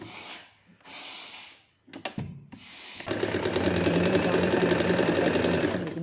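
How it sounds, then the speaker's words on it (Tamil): A sewing machine stitches lehenga fabric, running in a steady, close, rapid whir for the last three seconds after a few seconds of soft handling noises and breathy rustles. "ஸ்ட்ரெச் பண்ணாத தைச்சிட்டு வாங்க"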